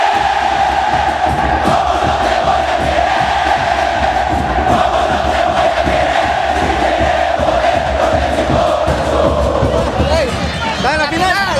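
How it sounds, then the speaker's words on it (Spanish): A packed football stadium crowd roars and chants at an Alianza versus Metapán semifinal, a loud, dense, continuous wall of voices that holds steady throughout. "Y que suene el canto 1."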